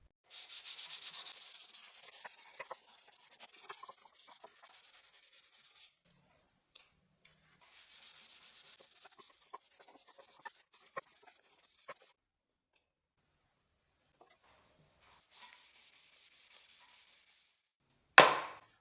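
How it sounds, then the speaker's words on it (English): Wood is hand sanded with sandpaper in several separate bursts of soft, raspy rubbing strokes, quiet and close, with long pauses and scattered small knocks between. "I'll do thorough hand sanding, first with 220 grit, then 320, and finally 400."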